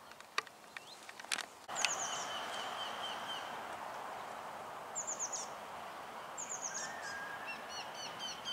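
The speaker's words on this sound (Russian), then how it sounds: "Птички как поют." Birds sing outdoors on a spring walk, with a few thin, high chirps and short trilling phrases repeating over soft background hiss and insect hum, fairly faint and without speech.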